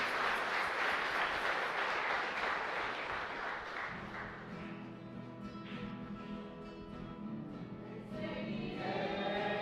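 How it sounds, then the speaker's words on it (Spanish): A church congregation at Mass in the San Miguel Arcángel parish, San Lorenzo, breaks into loud, full applause for a few seconds, which thins out as music and singing voices rise and carry on. "Y un fuerte aplauso para toda la comunidad"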